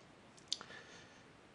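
A single crisp computer mouse click, close and quiet, comes against a faint background hiss as someone builds a Google form.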